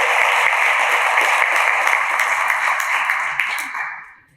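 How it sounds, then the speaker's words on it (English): Audience applause for a conference program committee, a dense wash of clapping from many hands that holds steady and loud before tapering off and fading out at the end. "a big applause for the program committee"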